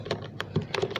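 Fingers tap on a computer keyboard, a quick run of about eight or nine crisp, close keystrokes at an uneven pace, fairly quiet.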